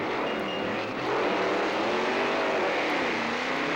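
1964-65 Ford Thunderbolt Fairlane drag cars at a drag strip give a loud, continuous engine roar that holds steady and swells slightly partway through.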